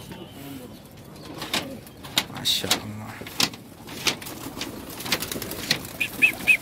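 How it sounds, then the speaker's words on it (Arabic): Egyptian Yellow pigeons kept in a loft coo softly and flap their wings in short bursts, close by, while someone speaks over them. "احنا عندنا هذا اسمه مصري اصفر طير جميل"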